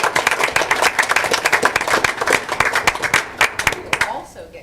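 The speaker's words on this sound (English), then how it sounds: "So let's give them a round of applause." Audience clapping at a board meeting, a dense burst of many hands close by that thins out toward the end and stops.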